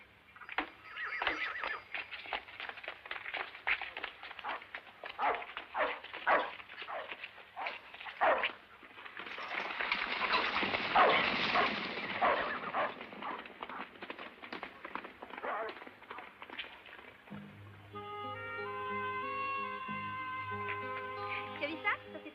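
Dog barking and whimpering in a western film scene, sharp repeated barks under talk with hoof-like clatter, then music swelling in at the end.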